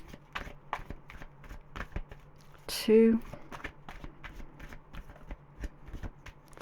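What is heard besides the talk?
tarot cards being shuffled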